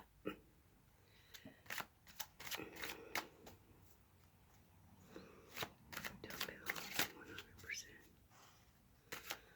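Quiet, close shuffling and rustling of a card deck as a dropped card is slid back into the stack, with soft papery flicks and taps at irregular intervals and a faint whisper-like voice in places.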